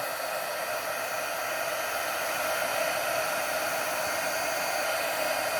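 A heat tool blows steadily for heat embossing on a handmade card, a constant close-up whooshing hiss with no breaks.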